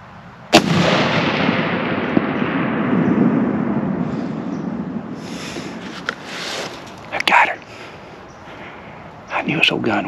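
A single sharp, loud 7mm rifle shot is fired at a doe about 400 yards away in a bean field. The shot cracks close, then a long rumbling echo rolls off and fades, followed by faint rustling and brief talk.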